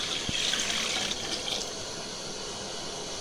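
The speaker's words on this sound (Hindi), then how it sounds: "अब हम इसके अंदर हस्बे ज़रूरत 1 kg चावल के अकॉर्डिंग पानी ऐड कर देंगे" Water pours steadily into a cooking pot for boiling rice, with a continuous splashing rush, close by and moderately quiet, with no voices.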